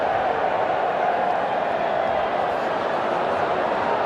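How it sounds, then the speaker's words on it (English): A rugby stadium crowd at a South Africa versus France test match roars in a broad, steady swell that stays unbroken, with a distant commentator's voice underneath. "Crowd starting to come alive."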